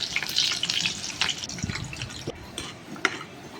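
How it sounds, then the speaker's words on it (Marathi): Onion sautéing in hot oil with cumin and mustard seeds for a bottle gourd curry, a steady close crackle and sizzle with scattered spoon scrapes and light clinks against the pan. "जिरं थोडं लालसर झालं का त्यामध्ये कांदा टाकायचा। कांदा छान परतून घ्यायचा।"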